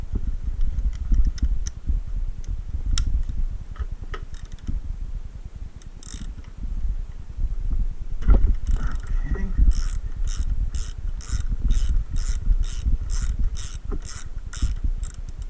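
A ratchet with a 14 millimeter socket removes a wheel nut on a drive wheel, scattered mechanical clunks at first, then a rapid regular run of close ratchet clicks.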